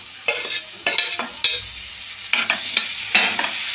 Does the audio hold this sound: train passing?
no